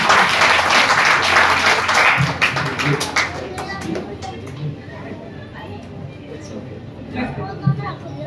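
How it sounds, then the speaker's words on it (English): An audience claps for Dr. Alwani at a Spina Bifida awareness and free screening camp. Loud, dense applause fills the first few seconds, then thins out and fades under background chatter and room noise. "So big round of applause for Dr. Alwani."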